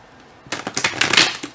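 Heavy-cardstock tarot cards are shuffled by hand, a quiet pause followed by a close burst of rapid crisp riffling and flicking, grouped in quick flurries.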